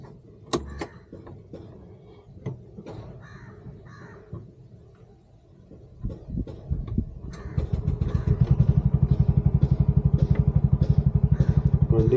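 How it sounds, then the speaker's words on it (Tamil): A 2025 Bajaj Maxima Z CNG auto-rickshaw engine idles. Scattered knocks and bird caws come first, then a loud, steady, rapid near-field thrumming chug takes over. "வண்டி இப்போ ஐடில் இருக்குது."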